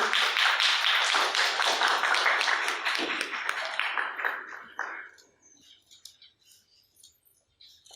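A seated audience applauds at an awards ceremony as a guest of honour is felicitated, dense sustained clapping that thins out into a few last scattered claps and then quiet.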